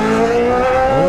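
A Yamaha XJ6 motorcycle engine revs loudly and close, its roar rising and falling in pitch over about a second, with no talking over it.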